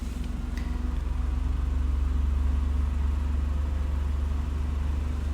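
A Daihatsu Ayla 1.2 three-cylinder engine idles steadily with a low, even hum that holds constant throughout, with no speech over it.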